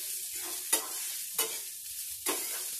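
Onions and green chilies frying in a pan, with a steady soft sizzle and three sharp stirring scrapes spaced out, close and without talk.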